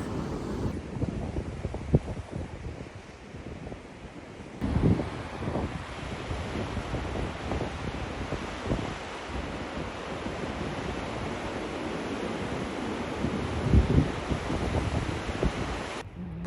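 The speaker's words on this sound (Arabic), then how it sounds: "هو ده الصوت اللي احنا كنا سامعينه، الخبط في الصخور ديت" Sea waves crash against rocks below a hilltop in Korea, a steady roaring wash of surf with periodic heavier surges, mixed with gusting wind rumble on the microphone and no voices.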